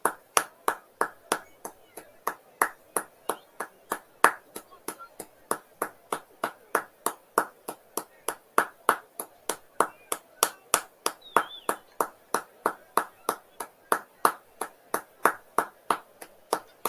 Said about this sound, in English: Impeccably observed, the minute's applause. All sides of Anfield applauded that